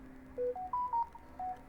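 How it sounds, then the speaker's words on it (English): A phone's notification chime of several short clear electronic tones in a rising then falling pattern, moderately loud over a quiet room during a drawing lesson, with no talk. "That was my phone."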